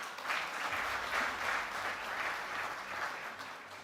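Audience applause fills a hall at an annual banking and finance meetings event, steady and sustained clapping from a large crowd for nearly four seconds with no talk over it.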